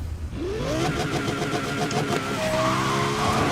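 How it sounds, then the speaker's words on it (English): Lexus car engine in the racing video game Need for Speed Most Wanted (2012), revving loudly and steadily with rising and falling pitch sweeps and a tire skid, heard alone without talk. "I just gotta hear that legendary engine sound."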